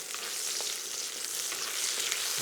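Chopped vegetables sizzle and crackle steadily in a very hot pan while being stirred, a dense continuous frying hiss with faint scraping, close and fairly loud throughout, no talking.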